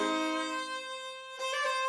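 A viola plays measure 3 of Bohm's Sarabande, including a turn: a sustained, resonant bowed tone that shifts pitch partway through with a quick ornamented change, solo and close with no talk.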